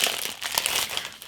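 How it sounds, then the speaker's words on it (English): A 3D paper tea card is handled and crinkles continuously, a close, bright papery rustle heard alone over a brief moment. "I'll set that down so it's not crinkly on us"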